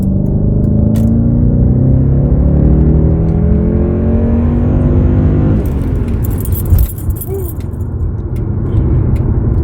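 A Jaguar XJ8 V8 engine with a performance air intake rises in a steady rev with a harmonic whine climbing in pitch. It then settles back to a loud, rough idle rumble, close by, with keys jangling briefly near the end.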